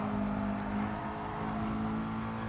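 Race car engines at Spa in Gran Turismo Sport, as a Porsche overtakes a Mercedes: a loud, continuous high-revving drone that holds steady throughout with no voices.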